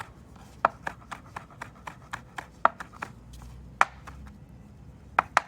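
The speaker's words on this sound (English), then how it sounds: "we'll go ahead and cut up a little of the pepper itself" Knife chopping a chipotle pepper on a cutting board for a breakfast burrito: a steady run of about twenty crisp, close taps at a quick even pace, a few landing louder, with no talking.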